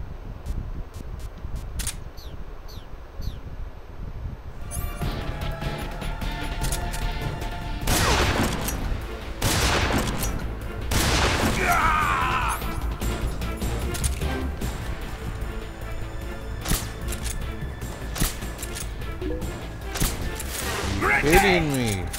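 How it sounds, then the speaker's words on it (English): Heavy shotgun blasts ring out in Metal Gear Solid 3: Snake Eater, a few loud booms scattered among dense game noise and clatter, with someone talking over parts of it. "Gotta pull up the shotgun just to blow those off."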